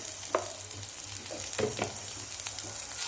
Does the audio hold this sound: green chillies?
yes